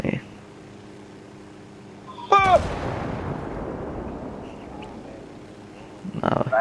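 A gas canister blows up in the video game Ghost Recon Wildlands, one sudden loud blast that rolls off into a long decaying rumble, with faint game sounds before and after.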